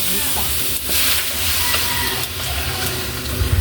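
Chicken and tomato sautéing in a pan for kinamatisang manok, a steady broadband sizzle and hiss with occasional stirring scrapes, fairly close and loud, with faint background voices.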